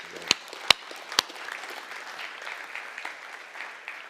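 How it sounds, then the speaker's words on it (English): A few sharp claps open a brief round of audience applause at an agricultural industry presentation, then a soft, thinning patter of clapping continues fairly quietly. "So I'd just like to acknowledge that by a round of applause."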